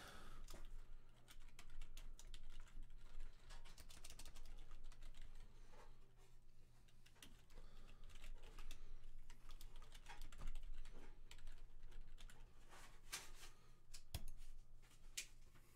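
Computer keyboard typing at a PC setup, irregular bursts of quick clicky keystrokes with brief pauses, quiet and close against a low steady hum.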